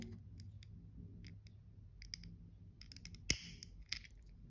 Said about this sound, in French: C'est pour ça qu'il faut ciseaux pour couper tous les petits bouts.